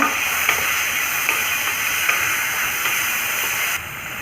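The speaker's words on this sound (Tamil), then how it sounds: "தக்காளியும் ஆட் பண்ணி நல்லா வதக்கிக்கோங்க" Onion, green chilli, garlic and tomato sauté in a pan for a lunch box rice dish, giving a steady close sizzling hiss with faint stirring scrapes.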